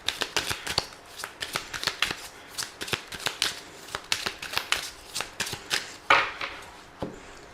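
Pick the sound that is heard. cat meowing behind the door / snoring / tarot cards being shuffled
tarot cards being shuffled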